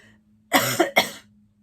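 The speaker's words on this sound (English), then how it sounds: "Got a cough in my voice." Two quick, close coughs in a row, loud and throaty, over a quiet background hum.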